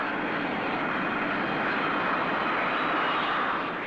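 A Folland Gnat light jet trainer of the Red Arrows display team roars steadily at an airfield, its powerful engine a loud continuous whooshing drone without pauses or voices.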